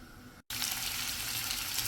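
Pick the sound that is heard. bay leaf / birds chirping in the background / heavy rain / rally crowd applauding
bay leaf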